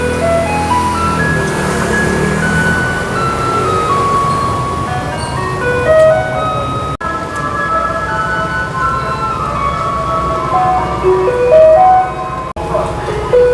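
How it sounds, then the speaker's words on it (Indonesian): A garbage truck approaches in the rain playing a repetitive electronic jingle, the melody loud and close over rumbling street noise. "Itu mobil sampah ya. Dia datang."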